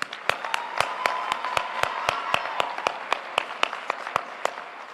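Audience applause at a 2023 virtual high school graduation ceremony: a steady wash of clapping with a few sharp, evenly spaced claps standing out close by, sustained for several seconds without talk.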